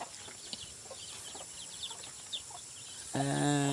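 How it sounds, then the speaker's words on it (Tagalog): Chickens cluck softly in a backyard pen area, scattered short calls over faint outdoor background, followed by a louder, sustained tonal sound near the end. "Ito ang aming mga chickens."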